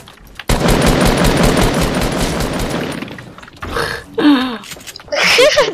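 Rapid automatic gunfire in the video game Fortnite rattles loudly for a few seconds, then breaks into shorter bursts and single shots with game sounds.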